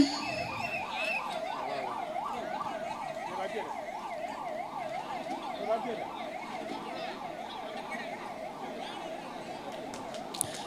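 A 108 ambulance siren wails in a steady, fast rising-and-falling pattern as it moves through a large DMK political rally crowd, loud and continuous over faint background crowd noise.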